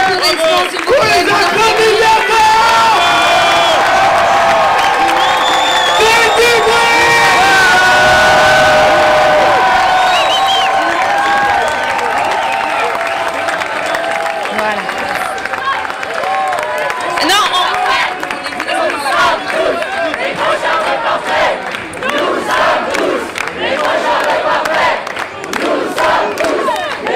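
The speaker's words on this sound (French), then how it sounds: "Un tonnerre d'applaudissements, s'il vous plaît." Outdoor crowd at a nonviolent climate protest cheering, whooping and shouting loudly, with some clapping mixed in and a roar that stays dense and energetic throughout.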